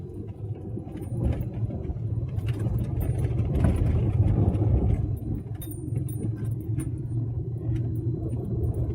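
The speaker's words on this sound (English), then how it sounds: "So we'll take a drive up to Camp Road." A car drives up Camp Road, its engine a low steady rumble that swells in the middle and settles again, heard from inside with faint rattles and no talking.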